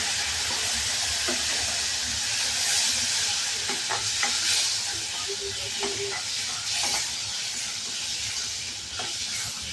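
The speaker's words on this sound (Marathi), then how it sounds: "तो आता छान परतून घेणार आहोत" Tamarind pulp with curry leaves and cumin sautés in hot oil over a lowered flame for a sweet-sour varan. A steady, dense sizzle and hiss runs throughout, with a few soft stirring scrapes and no voices.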